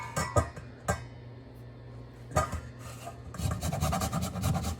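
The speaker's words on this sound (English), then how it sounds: "to which we're going to add some lemon zest" A lemon is scraped against a zester for a crab flatbread filling, giving scattered close rasping strokes at first and then a faster run of scratching over a low background hum.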